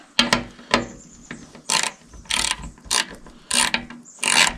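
A ratchet wrench backs out half-inch bolts holding the filter on a Wolferidge 35SHO, giving sharp repeated ratcheting bursts in quick clusters with short pauses between, close and clear.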